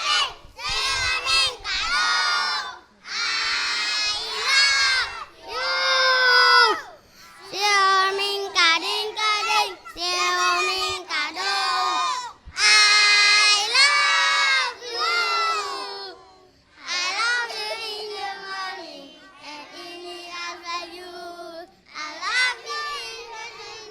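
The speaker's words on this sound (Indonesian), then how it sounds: "Sekarang kita nyanyi lagu Skidermaning ramai-ramai dan suaranya dikeraskan ya" Kindergarten children at a school event sing the song Skidermaning together, a loud crowd of young voices in repeated sung phrases with brief breaths between lines.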